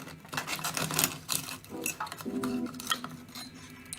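A knife and fork clink and scrape against a plate while cutting open an overcooked boiled egg, several sharp metallic taps and a short scraping stroke, up close in a quiet kitchen.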